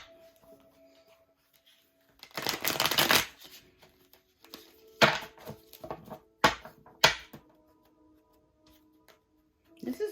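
Light Seers Tarot cards being shuffled by hand in a quiet room, a long riffling burst followed by several shorter crisp shuffles and card snaps, close and fairly loud with no talking.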